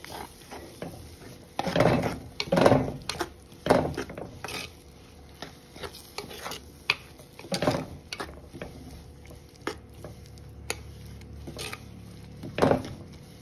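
Banana flower egg masala gets stirred in a pan with a spoon, giving irregular clacks and scrapes, some sharp and close, others soft, spread across a quiet kitchen.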